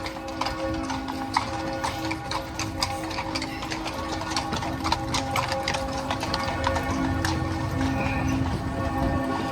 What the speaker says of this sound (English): We go in the usual way and then there are the horses.